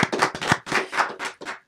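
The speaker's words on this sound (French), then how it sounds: "On peut l'applaudir," A small audience claps for a historian at a French-language public talk, a short burst of distinct, sharp handclaps in uneven clusters, fairly close and clear, then trailing off.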